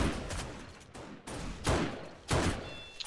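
Bursts of SMG gunfire in the zombie survival game 7 Days to Die, three or four rapid fusillades separated by short pauses, fairly loud and close, with no talking.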